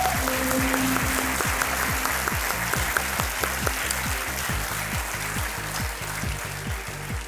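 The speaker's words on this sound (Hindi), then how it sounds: "तालियों के साथ इनका स्वागत किया जाए।" Studio audience on a televised quiz show set clapping steadily, a dense, continuous wash of applause lasting throughout, with faint background music underneath.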